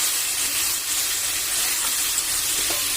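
Boiled amaranth leaves (thotakura) sizzle in a hot pan with ginger and garlic, a steady close hiss of frying that holds even throughout with no talking.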